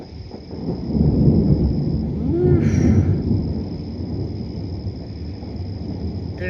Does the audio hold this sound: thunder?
yes